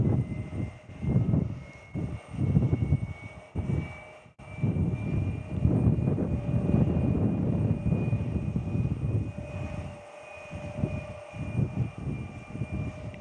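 A Southwest Airlines plane at Tucson International Airport gives off a steady, loud engine roar that continues almost unbroken, with wind noise buffeting the microphone throughout.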